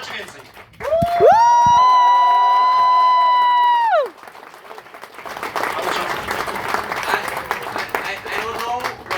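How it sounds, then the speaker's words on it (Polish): Event audience applauding and cheering for a speaker in Kraków, a dense broadband wash of clapping that builds after a loud sustained tonal whoop or held note dominating the opening seconds. "jeszcze raz gromkie brawa"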